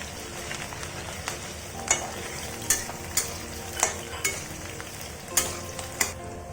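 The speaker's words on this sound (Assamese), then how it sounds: "তেলটো গৰম হ'ল, এতিয়া পিঁয়াজ দি দিছোঁ।" Onions sizzling in hot oil in a home kitchen, a steady close frying hiss broken by regular sharp clinks of a utensil stirring the pan.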